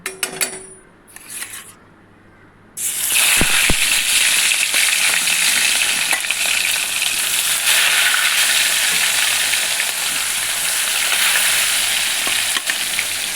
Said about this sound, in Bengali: এবার আমি মাছগুলো একে একে ছেড়ে দেবো।